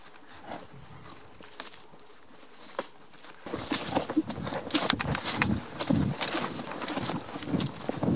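Hooves of a horse being ridden while rounding up cattle clip-clop over the ground, faint and scattered at first, then louder, quicker, closer steps in a steady rhythm.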